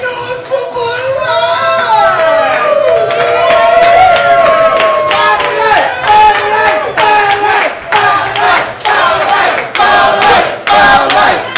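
A live comedy club audience cheers, whoops and shouts loudly and continuously, the roar breaking into bursts of rhythmic clapping and yells toward the end.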